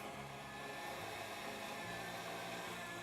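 An electric mixer beats egg whites at medium-high speed for a baked Alaska, a loud, unbroken motor whir that holds steady throughout with no voices.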